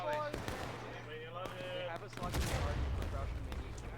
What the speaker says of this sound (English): that was a great artillery shot